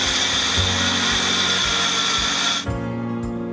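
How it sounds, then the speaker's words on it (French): Power tool cutting Douglas fir boards for wooden cladding, a loud continuous whine that runs steadily, then drops in pitch as the cut ends and the motor spins down. "Donc on va découper des planches."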